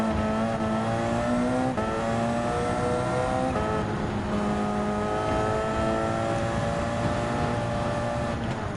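Race car engines in Gran Turismo 7 roar continuously through a WTC 900 race, the pitch rising and dropping with gear shifts, with occasional tyre noise and nearby cars in a dense, steady wall of sound.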